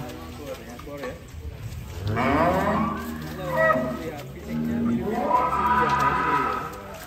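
A large cow mooing loudly nearby as it is let out of its pen, with long drawn, wavering moos rising and falling twice, while people chatter around it.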